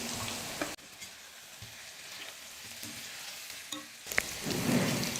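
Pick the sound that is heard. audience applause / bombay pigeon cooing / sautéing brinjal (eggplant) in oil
sautéing brinjal (eggplant) in oil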